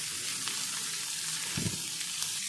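Cubed yellow and red bell peppers frying together in a pan, giving a steady, even sizzle close by with a few faint clinks and one brief low thump.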